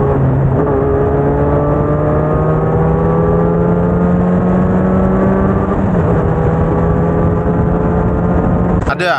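A car revs hard at a race track, its engine climbing in pitch through a long pull, dipping briefly at a shift and climbing again, loud and close, with voices faintly underneath.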